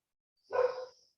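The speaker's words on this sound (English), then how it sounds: "I don't know what they're barking about." A single dog bark sounds in a quiet room during a fitness class, one short, moderately close woof with no one talking over it.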